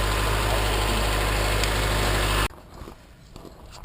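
A motorhome engine idles with a loud, steady, buzzing rumble for about two and a half seconds, then cuts off abruptly, leaving only faint background noise.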